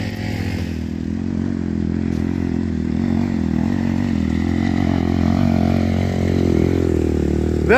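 An off-road vehicle engine revs loudly and steadily at close range, its rough, clattering drone holding for several seconds with no speech over it.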